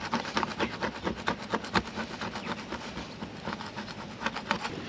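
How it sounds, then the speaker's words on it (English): Rhythmic scraping strokes rasp across a boat's hard surface as paint is scraped off, steady and close, with a gritty back-and-forth texture. "So instead of sanding, you're scraping?"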